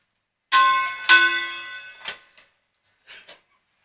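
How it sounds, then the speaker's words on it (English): Two bright metallic strikes on a gong ring out close together with shimmering tones that hang and fade, followed by a softer knock and a faint later tap. "As soon as I bang this gong, world hunger will be stopped instantly"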